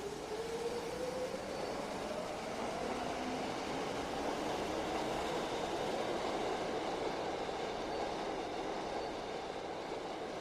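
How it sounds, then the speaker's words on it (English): Subway train rumbling steadily through a tunnel, played back in Adobe Audition as a sound effect, with a continuous broadband roar and a faint rising wheel squeal near the start, loud and unbroken throughout. "this is the subway clip."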